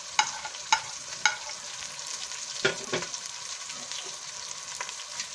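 Garlic and tomatoes frying in a pan for a black pepper meat curry, a steady close sizzle with a few sharp pops and spatters and no talking.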